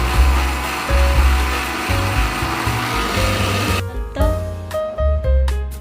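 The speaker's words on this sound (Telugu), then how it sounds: "అవేమో ఇప్పుడు మిక్సీ పడుతున్నాను అనమాట" An electric mixer grinder runs loud and close, whirring through roasted mustard, cumin and fenugreek seeds with a steady motor drone that pulses and cuts off in short bursts near the end.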